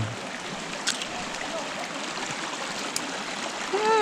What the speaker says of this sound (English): Let us cross this ice cold water.